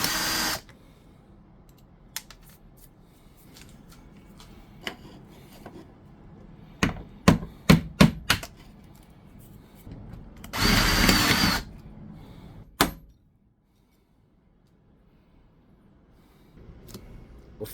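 A small Aldi cordless drill bores out clutch rivets indoors, in a kitchen. It whirs in a burst at the start, then several short sharp pulses and one longer steady run, with quiet gaps between.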